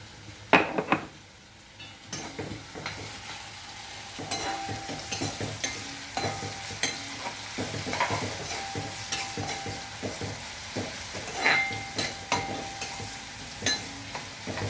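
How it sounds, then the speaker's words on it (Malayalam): Ginger frying with salt in a pan gives a close, continuous sizzle broken by repeated scraping and clinking as a utensil stirs it against the pan. "ഉപ്പിട്ട് ആവശ്യത്തിന് ഉപ്പിട്ട് നമുക്കത് വറുക്കാം"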